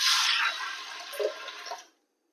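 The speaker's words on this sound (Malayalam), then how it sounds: "ഇതിനാവശ്യമുള്ള വെള്ളം ചേർക്കുക" Water poured into a pot of washed green gram while making cherupayar curry, a loud gushing splash at first that eases into a steadier trickle and stops abruptly near two seconds.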